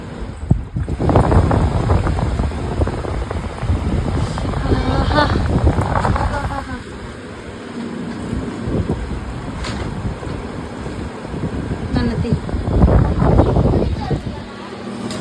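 A newly switched-on home air cooler blows a steady, broad rush of air close to the microphone, running throughout while people talk over it.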